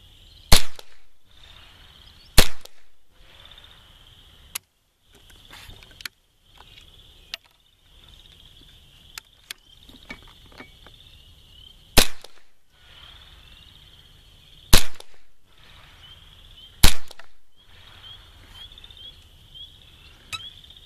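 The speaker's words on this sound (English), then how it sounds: "So the first 5 shots are the Blazers and the second 5 shots are the Standard Velocity." Sharp, loud .22 rifle shots from CCI Blazer ammunition, five evenly spaced cracks with short decays, fired outdoors with a steady high insect chirr behind them.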